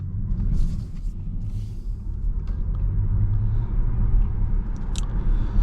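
A 2025 Audi A6 e-tron Sportback, an electric car with up to 375 horsepower driving the rear wheels, pulls away in dynamic mode. A steady low rumble of road and tire noise rises slightly as it accelerates, with no engine note.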